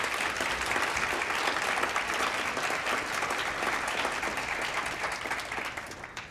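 Audience in a room applauding young writers after a reading event, sustained dense clapping from many hands, loud and even, tapering slightly at the end.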